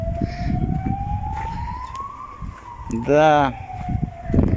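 A fire engine siren wails with a long, slowly rising and falling tone that runs through the whole stretch, joined near the end by a louder harmonic-rich blast, probably the horn. There is low background noise throughout, and a voice speaks briefly.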